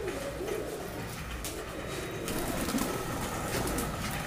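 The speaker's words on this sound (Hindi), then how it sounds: "माशाल्लाह बहुत ही परवाजी कबूतर हैं ये" Flying pigeons coo in a loft, soft repeated throaty calls close by over a low background murmur.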